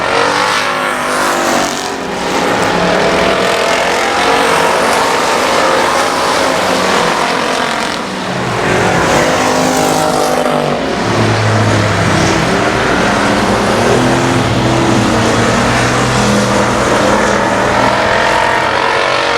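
Race cars roaring around I-37 Speedway on the final lap, a loud continuous engine drone that swells and dips as the field passes, with no voices over it.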